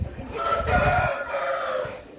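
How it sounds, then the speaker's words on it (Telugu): Roosters crow at a rooster farm where many breeds are kept, a loud drawn-out call rising across the middle of the short stretch over a low rumble of farm background. "అన్ని రకాల పుంజులు కూడా ఉన్నాయి"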